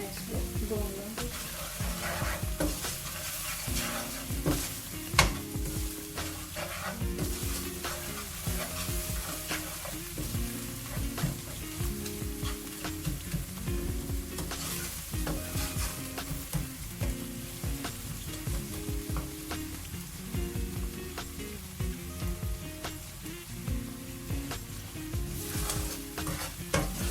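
Palak saag frying and being stirred into spices in a pan, a continuous sizzle with repeated scraping stirs of a spoon at a steady rhythm, close and moderately loud.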